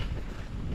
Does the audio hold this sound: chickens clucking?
no